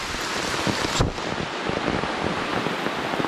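Rushing water at a forest waterfall during rain, a loud steady broadband roar with a brief surge near the start and no voices.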